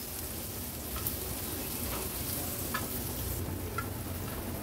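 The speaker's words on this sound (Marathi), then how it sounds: "हे बघा, लगेचच त्या तळल्या जातात" Slices of kantole (spiny gourd) frying in oil on a flat tawa give a steady, close sizzle, with a few faint ticks and light scrapes rising over it.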